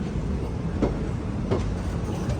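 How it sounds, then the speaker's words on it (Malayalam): The Kannur–Alappuzha Executive Express rolling into Ernakulam Junction, a steady low rumble of wheels on track with two soft rhythmic clacks, fairly faint and distant. "എറണാകുളം ജംഗ്ഷൻ റെയിൽവേ സ്റ്റേഷനിലേക്ക് ഇതാ നമ്മുടെ ട്രെയിൻ എത്തിക്കൊണ്ടിരിക്കുകയാണ്"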